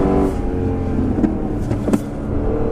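Engine note of a 2015 Lexus RC F on a racetrack, heard from inside the car: a steady, loud low drone with faint harmonic tones and a couple of brief bumps, no talking.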